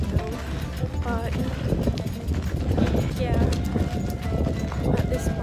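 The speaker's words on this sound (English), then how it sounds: "We're so tired of walking, so we take a donkey ride instead." Donkey hooves clip-clop steadily on the rocky trail at Petra in Jordan during a tourist donkey ride, with wind gusts and voices murmuring in the background.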